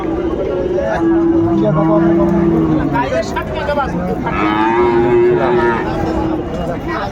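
Cattle at a market, including Friesian and crossbred bulls, moo loudly several times, long low calls with a nasal tone, over a busy crowd murmuring and talking nearby.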